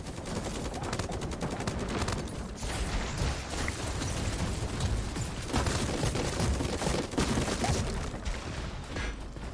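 Steady, dense gunfire from the Super Mecha Champions mech battle game runs loud and continuous through the whole stretch, with overlapping bursts and mechanical clatter and no talk.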